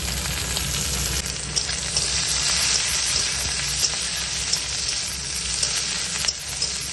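Onion and green chili frying in oil with panch phoron spices, a loud, steady, close-up sizzle filling the whole stretch with occasional faint stirring clicks and no voices.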